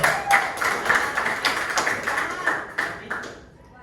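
A small group, seemingly children in a classroom question session, claps in quick uneven bursts at close range that trail off toward the end.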